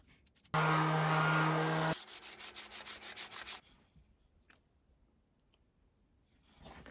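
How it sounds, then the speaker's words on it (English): Close, scratchy sanding on a wooden wand: one long continuous rub, then a quick run of rhythmic back-and-forth strokes, followed by quiet scrapes. "then get final sanding, and then put a finish on it"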